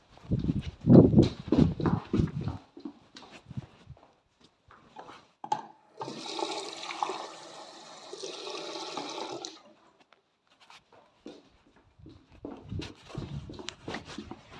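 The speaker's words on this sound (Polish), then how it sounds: "Taką dosłownie resztkę wody, takiej do picia. I ją myślę, że dodajemy tutaj." Leftover drinking water is poured into a moss terrarium, making a steady trickling, splashing pour of a few seconds between bouts of nearby talk and soft handling sounds.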